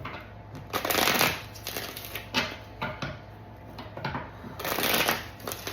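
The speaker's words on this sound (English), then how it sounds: "I feel like I never have enough room for the cards." Tarot cards shuffled and handled on a cramped surface, a close, papery riffling and rustling that swells in bursts and eases between them, with no voice.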